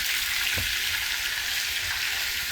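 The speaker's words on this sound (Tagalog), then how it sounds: "Habang nag-prito" Steady, loud sizzling of food frying in hot oil, a constant crackling hiss with no voices.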